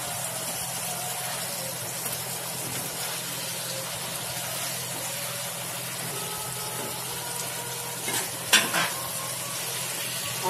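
Spice masala frying in a pan for a rohu fish dish, a steady close sizzle that runs unbroken with a couple of brief stirring clinks near the end.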